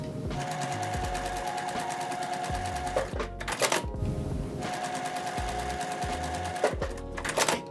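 A domestic sewing machine stitches quilt fabric pieces together in two fast rattling bursts of needle clatter, each ending with sharp clicks and handling noises, close and loud with no talk.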